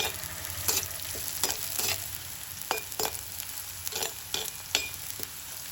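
Sliced ginger sautéing in a pan for an Alleppey-style white sardine curry, a steady close sizzle broken by repeated scraping stir strokes.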